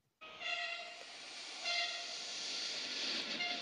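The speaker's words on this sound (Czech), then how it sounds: "Takhle se vlak převážel z Prahy do Brna" A passing TGV high-speed train at Brno, Czech Republic, roars steadily with a hissing rush and faint tonal whistling, moderately distant, without any voices.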